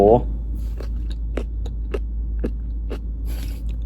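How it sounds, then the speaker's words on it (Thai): Someone bites and chews crunchy jellyfish at a night walking street market in Chiang Mai, giving a series of crisp, evenly spaced crunches close to the mic over a steady low hum, with a brief voice at the start. "เสียงคือแบบกรุบเกิน กรุบมาก เหมือนแมงกะพรุน"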